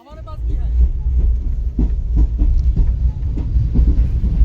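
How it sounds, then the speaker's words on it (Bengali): Vibhuti Express (12334) passenger train running slowly as it enters Patna station, with a steady low rumble and repeated rhythmic clacks of wheels over rail joints heard from inside the coach, loud and continuous. "আর আমাদের ট্রেনটা এখন ঢুকছে পাটনা স্টেশনে।"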